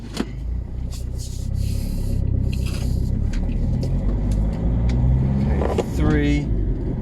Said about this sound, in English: I'm now in the Land Rover. First thing I'm noticing, it's much louder than the Hyundai.